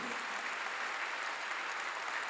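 Steady, dense applause from a church congregation during a sermon, filling the whole moment at an even level with no voices standing out.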